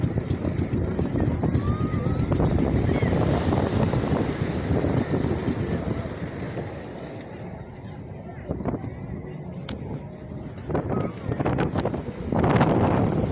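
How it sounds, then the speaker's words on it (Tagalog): Strong sea waves around a small boat off Ternate, Cavite, with heavy wind buffeting the microphone, surging water and hull splashes, and occasional voices of people on board. "Malakas ang alon."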